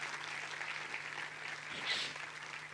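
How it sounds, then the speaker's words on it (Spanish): Soft applause at a church service, offered to God, heard as a faint, diffuse patter of clapping with a low steady hum beneath it and a brief swell near the end. "Dale un fuerte aplauso a Dios"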